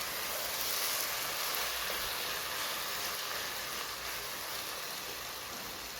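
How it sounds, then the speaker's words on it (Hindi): Potatoes, capsicum and crushed green chilies frying in a pan, a steady even hiss and sizzle that stays close and constant without pauses. "अब हम इसकी भुनाई करते हैं"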